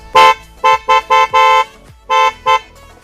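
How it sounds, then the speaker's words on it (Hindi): A loud horn on a 2021 Maruti Alto CNG honks in a series of short and longer blasts with brief gaps, close by and alone. "मैं बजाऊंगा हॉर्न, आप लोग आवाज़ सुनना।"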